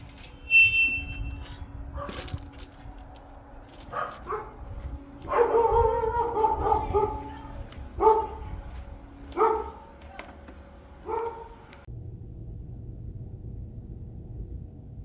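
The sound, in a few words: dogs barking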